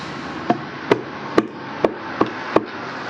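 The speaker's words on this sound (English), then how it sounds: "we need something to take the hammer abuse" Six sharp metallic hammer strikes land on a Honda Transalp motorcycle engine cover at a steady, unhurried pace, close by and distinct over a faint background hum.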